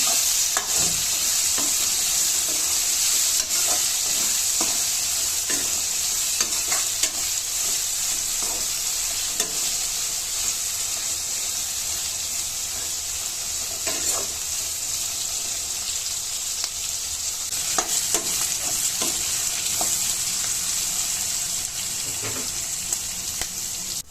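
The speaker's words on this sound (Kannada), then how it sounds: "ಇದು ಎಲ್ಲ ಎಣ್ಣೆಯಲ್ಲಿ ಚೆನ್ನಾಗಿ ಫ್ರೈ ಆಗಿದೆ" Capsicum and green peas fry steadily in hot oil for a capsicum peas gravy, a continuous close sizzle broken by repeated scrapes and clinks of a spatula stirring the pan, with no voices.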